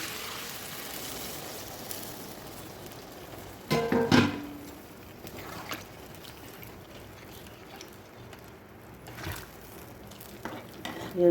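Hot water hits a hot pan of jackfruit with fried potato and prawns, making a loud burst of hissing and bubbling. A softer simmering sizzle and occasional utensil clinks follow.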